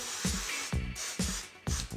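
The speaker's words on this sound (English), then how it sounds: "So you just spray it on here." A strong cleaning product is sprayed onto a surface in four quick, close spritzes, each a short breathy burst with a light thump at its start.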